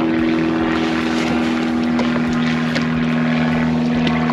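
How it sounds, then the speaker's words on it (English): A propeller aircraft drones steadily overhead above a fishery, a loud, continuous engine hum with a strong low tone that holds without letup. "Planes are going over again."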